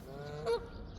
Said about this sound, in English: That is a goose, right?